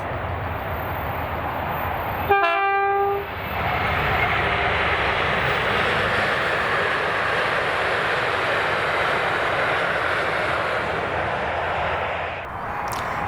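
Freight train 6S48, the Port of Workington to Aberdeen Waterloo slurry working hauled by locomotive 7811, rumbles past at Beattock in Scotland with a loud, steady roar after a short horn blast.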